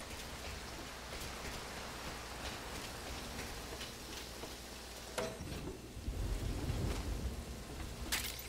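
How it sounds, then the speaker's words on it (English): Rain in Metal Gear Solid V hisses steadily as a faint, continuous wash, with a few sharper ticks and a low rumbling swell toward the end. "That rain just won't let up."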